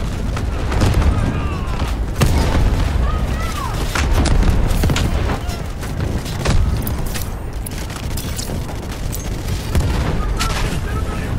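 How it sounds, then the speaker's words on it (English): Artillery barrage in the Delta Force video game, heavy booms and blasts rolling one after another in a dense, continuous battlefield din, with gunfire and mechanical clatter mixed in. "Artillery ready for barrage."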